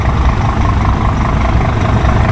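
A Scania P 360 truck engine idles with a loud, steady low rumble and even diesel chug, heard close and without talk.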